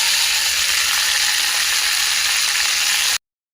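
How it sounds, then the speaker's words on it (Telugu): Tomatoes fry in a tablespoon of oil in a pan, giving a loud, steady sizzling hiss that stops abruptly after about three seconds, with no voices. "ఆయిల్ వేసుకున్న తర్వాత టమాటాలు వేసుకొని మెత్తగా అయ్యే వరకు మగ్గించుకోవాలి."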